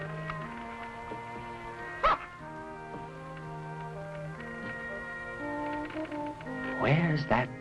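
A dog yips and barks aboard a boat in a 1964 Robinson Crusoe adventure series: one sharp bark near the two-second mark and a cluster of whining yelps near the end, over steady music and background sound.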